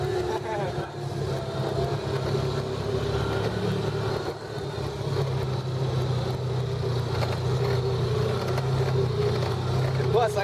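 A Yamaha YZF 400cc dirt bike engine runs steadily while being ridden outdoors, a constant mid-pitched drone with wind noise and people talking over it.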